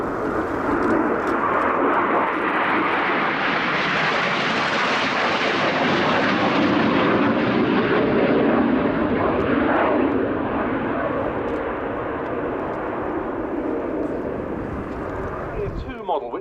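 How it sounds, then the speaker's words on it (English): Two Spanish Navy EAV-8B Harrier II jets fly a display at an airshow, their engine roar loud and continuous as they pass, rising in pitch then easing, with a commentator talking over it. "Here come the two Spanish Harriers from the left."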